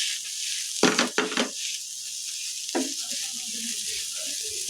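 Boiled potatoes drop into a hot frying pan for a cabbage and potato paratha filling, setting off a brief burst of sizzling and stirring scrapes, followed by a steady, close hiss of frying.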